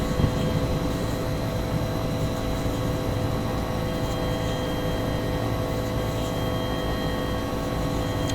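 Huey UH-1 helicopter in the X-Plane 11 flight simulator spooling up for takeoff, a steady loud droning rotor and turbine whine that holds constant throughout with no speech.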